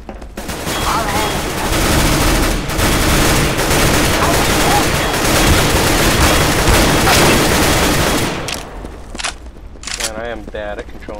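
Gunfire in Counter-Strike: Global Offensive gun game mode: dense, loud bursts of automatic fire run continuously for about eight seconds, then stop, leaving a few sharp electronic blips and quieter game sounds.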